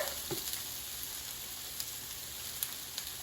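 Zucchini and squash slices sizzle while pan frying, a steady, fairly soft hiss with a few faint pops and no talking.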